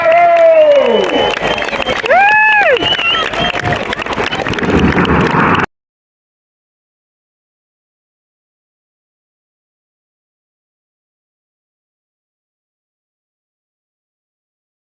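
Large outdoor crowd at the 2022 Swansea Bay Air Show applauding and cheering for the Royal Air Force Red Arrows aerobatic team, a dense wash of clapping with a voice over it, cutting off abruptly after about six seconds.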